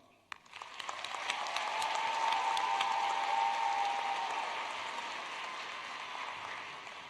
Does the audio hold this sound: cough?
no